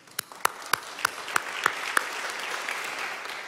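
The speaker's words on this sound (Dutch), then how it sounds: "Applaus graag." A small concert audience at TivoliVredenburg claps together, starting with a few sharp distinct claps that quickly blend into steady, moderate applause.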